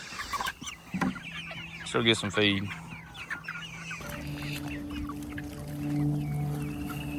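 Morning chickens on a farm with mostly roosters cluck and squawk nearby in bursts, including a loud rising call, as a person speaks briefly and footsteps move through the yard.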